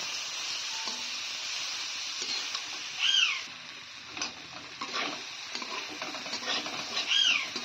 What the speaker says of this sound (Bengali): আরও একটু কষাতে হবে।